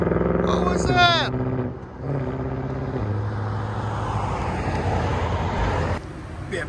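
A BMW M5 with a resonator delete and a valved exhaust that is close to a straight pipe revs hard, then settles into a loud, deep, rumbling drone nearby, with people talking over it.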